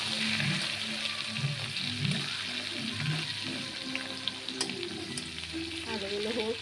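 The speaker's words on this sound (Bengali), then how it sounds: "এবার আলুগুলো দেবো, আলুগুলো ভাজবো" Potatoes fry in oil with a steady close sizzle, joined by scraping stirs and occasional utensil clinks, while faint background voices or other household sounds murmur underneath.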